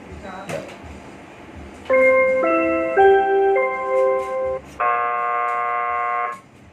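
An automatic MP3 factory bell plays a multi-tone electronic chime, a sequence of sustained clear notes stepping in pitch over about four seconds, loud and close after a brief quieter stretch.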